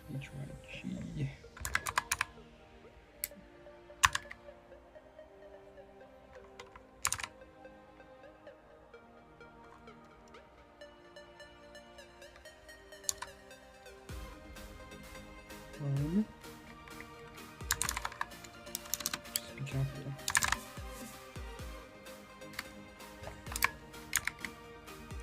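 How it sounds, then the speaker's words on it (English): Steady, close typing on a computer keyboard, with quick irregular key clicks and clacks coming in bursts over soft background music, while a voice speaks briefly. "You guys get to enjoy typing ASMR while I do this"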